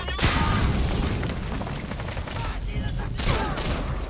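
Shotgun blasts and heavy gunfire boom in Metal Gear Solid 5 combat, dense and loud with repeated sharp reports and a rumbling low end throughout.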